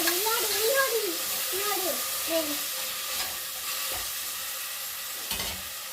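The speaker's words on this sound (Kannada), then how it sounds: "ಶುಂಠಿ ಬೆಳ್ಳಿ ಪೇಸ್ಟು ಟೊಮೆಟೊ ಹಾಕ್ಬಿಟ್ಟು ಚೆನ್ನಾಗಿ ಮಿಕ್ಸ್ ಮಾಡ್ತಾಯಿದ್ದೀನಿ" Tomato and ginger-garlic paste being stirred in a frying pan, a steady sizzle and hiss with scraping strokes, close and moderately loud, while a voice hums or sings in short melodic phrases over the first half.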